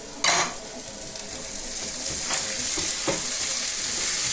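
Onion and green chilli sizzle steadily in a pan as ginger-garlic paste goes in, with a loud hiss of frying, a few scraping stirs and light utensil clinks, no talking.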